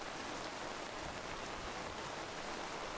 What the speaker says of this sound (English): Rain's starting to get heavy again, as you can see on the screen.